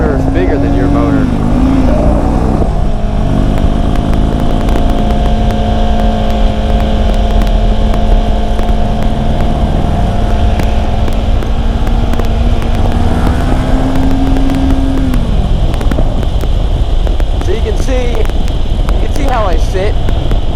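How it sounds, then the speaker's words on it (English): Harley-Davidson Ultra Classic motorcycle engine running loud and steady with a sustained drone that rises and holds, heard up close over constant wind noise while someone talks over it. "Look at this guy revving up his bike like he wants to race me."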